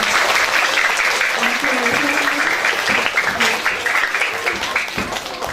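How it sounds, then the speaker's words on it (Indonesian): An audience at a primary school Easter musical drama claps in steady, dense applause that stays loud throughout, with a few voices calling out over it. "boleh tepuk tangan sekali lagi ya"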